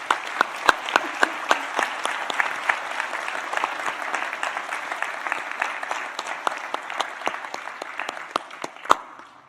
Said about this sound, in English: will everyone join me in applauding their achievements?